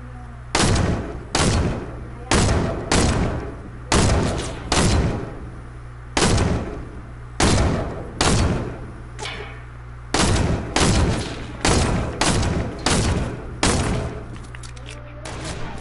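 Gunfire in a shooter video game, a series of loud sharp shots in irregular bursts of two or three, up close with brief pauses between volleys.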